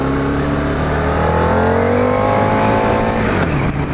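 A 2015 Harley-Davidson VRSCDX V-Rod motorcycle on a test ride, its engine droning loud and close with a rising rev and steady exhaust rumble, then easing off near the end.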